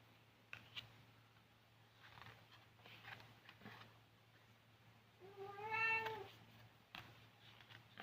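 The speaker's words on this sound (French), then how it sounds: "en ce moment, elle fait des miaulements au moment que je fais ma vidéo" A 19-year-old female cat gives a single clear drawn-out meow, moderately close, against a quiet room with faint low hum and a few small handling noises.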